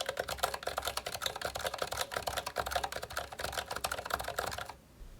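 Rapid mechanical keystrokes on a GK61 keyboard fitted with lubed Zilent V2 tactile switches and thick 1.5 mm keycaps, a close, dense clatter of continuous typing that stops abruptly near the end.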